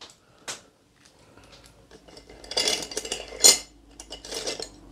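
A cocktail being stirred lightly, with soft scattered clinks and scrapes of a spoon against glass and ice building into a few brighter chinks; close, fairly quiet, no talking.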